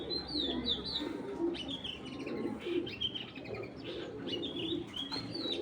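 Original long-type racing pigeons coo in low rolling murmurs against a steady background of chirps and bird chatter, moderately close and continuous.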